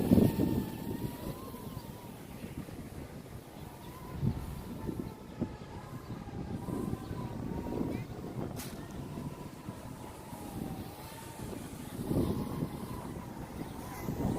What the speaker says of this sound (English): Wind is blowing it towards me really hard.